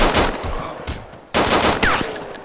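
Gunfire in the survival video game DayZ: rapid bursts of automatic shots crack out in two clusters with a short gap between them, loud and sharp, with no talking.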